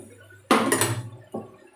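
Boiled dal is tipped out of a cooking pot in a home kitchen: a sudden close slosh with a metallic clatter, then a shorter second splash and knock.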